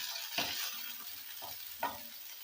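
Ginger and garlic paste sizzles in hot oil for chili paneer, a steady frying hiss with a few sharper spatters and stirring scrapes near the start, midway and toward the end.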